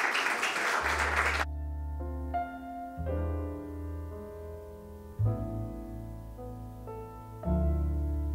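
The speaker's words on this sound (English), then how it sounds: "A round of applause." Audience members at the European Awards in Medicine 2019 ceremony break into a brief, loud burst of applause that cuts off quickly as music with sustained tones takes over.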